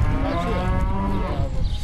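Dairy cows mooing on a farm, a loud, sustained low moo from a nearby animal with further bovine calls blended in, no talking.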